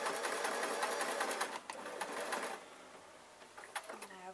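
Sewing machine with a ballpoint needle stitching soft-toy fabric, a rapid mechanical whirr of dense repeated needle strokes that slows and stops about halfway, followed by quieter handling and a short soft sound.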